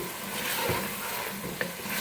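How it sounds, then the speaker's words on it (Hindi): Boiled chickpeas sizzle steadily in a pan over a medium flame while a utensil stirs and scrapes through them, with one small clack near the end; no talking. "अच्छी तरह से मीडियम फ्लेम पर भून रहे हैं"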